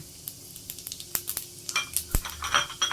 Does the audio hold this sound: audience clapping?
no